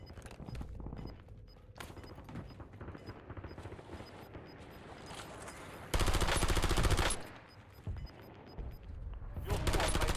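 Rapid automatic gunfire in Warzone Resurgence mode, bursts of shots at varying distance with a loud, sustained close volley midway, mixed with game voice callouts and player talk.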